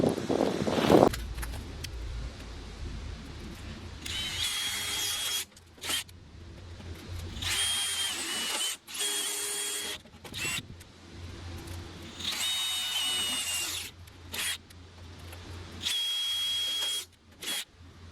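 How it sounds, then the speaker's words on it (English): A power drill pre-drills wood for screws in repeated short bursts with brief stops between, fairly close, over a low background hum. "what I'm going to do now is pre-drill. I'm going to pre-drill."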